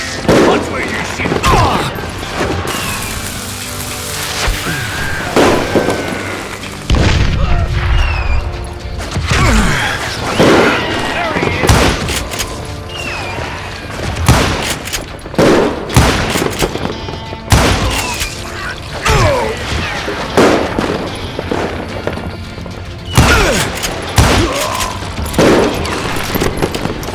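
Gunfire in the 2013 video game Call of Juarez Gunslinger, a dense run of loud shots and booming blasts with mechanical clacks, nearly continuous, under a voice and game sounds.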